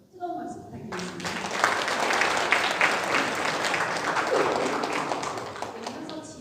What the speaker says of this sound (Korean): 이정철 교수님께 뜨거운 박수 부탁드리겠습니다